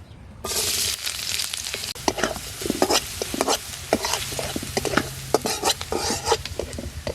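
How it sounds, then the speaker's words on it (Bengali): Chopped garlic frying in mustard oil in a hot kadai, a sudden loud sizzle as it hits the oil and then steady crackling with frequent metallic scrapes and taps of stirring, close and without speech. "রসুনটা হালকা ভাজি হয়ে গেছে"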